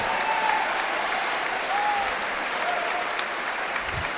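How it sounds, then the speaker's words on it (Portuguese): Steady audience applause fills a crowded hall at a Portuguese-language religious sermon, a dense continuous wash of clapping held at even loudness throughout. "pode aplaudir se entender o recado."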